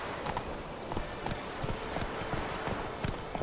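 Horse hooves clip-clop at a steady trotting rhythm in the video game The Witcher 3, close and moderately loud over a constant background rumble, with no talking.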